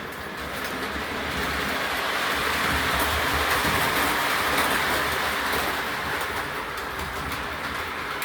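A continuous whirring, rattling run of a model train with a can motor, steady and fairly loud, with faint bird calls in the background.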